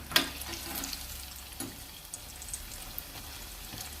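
Sabudana (sago) fritters frying in hot oil make a soft, continuous bubbling sizzle, with a sharp crackle at the start and a few light pops afterward, close by and with no talking.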